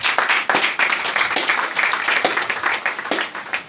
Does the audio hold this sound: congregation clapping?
yes